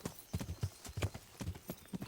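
Horse hooves clip-clop at a steady gallop-like rhythm while riding in the video game Kingdom Come: Deliverance, close and clear with quick repeated strikes and no talk.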